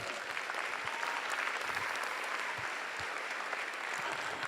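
Audience applause at a charity gala auction, a steady wash of clapping from a crowd that holds evenly throughout.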